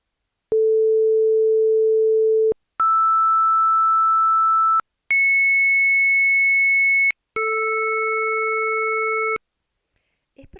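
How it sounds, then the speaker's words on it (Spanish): Three pure sine-like tones sound one after another, each steady for about two seconds, low, middle, then high, before all three play together as one combined tone; clean, loud and electronic, ending in silence. "Escuchamos un sonido formado por tres armónicos, primero los tres por separados y después están los tres juntos."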